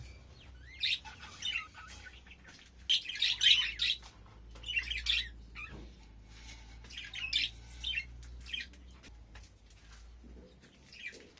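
Pet budgies in an indoor bird room let out repeated bursts of chirps and squawks, several birds calling together in clusters with short quiet gaps between.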